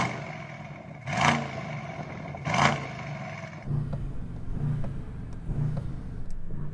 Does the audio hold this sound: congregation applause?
no